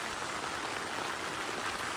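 Steady rain falls on a soaked campsite during a multi-day trek, a dense, even hiss of drops on wet surfaces with no pauses, fairly faint and continuous.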